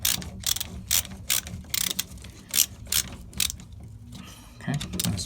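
Screws being tightened on an electrical outlet during replacement, heard as short close bursts of rapid ratcheting clicks separated by brief pauses.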